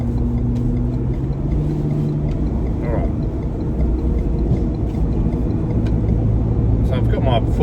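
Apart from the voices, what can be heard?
Ford Ranger SuperDuty engine accelerating while towing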